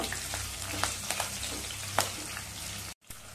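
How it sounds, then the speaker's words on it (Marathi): Green chili pieces, sliced lengthwise, frying in hot oil for a methi matar malai curry, giving a steady close sizzle with scattered crackles and pops and a brief dropout near the end. "3-4 तुकडे मिरचीचे मी उभे कापून घेतलेत, ते घालूया आणि चांगलं परतवून घेऊया तेलामध्ये."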